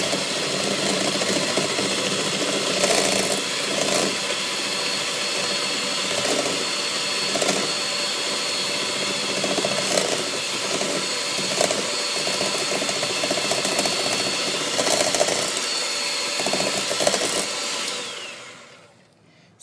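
Electric stand mixer creaming butter and sugar for sugar cookie dough at a raised speed, a steady loud mechanical whir with rhythmic ratcheting pulses that winds down at the end.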